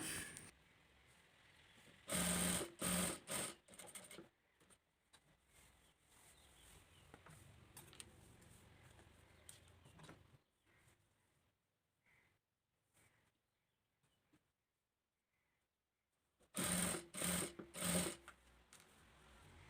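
A sewing machine stitches along the edge of blue fabric for a simple top, running in two short rapid bursts with quiet pauses and soft handling between them.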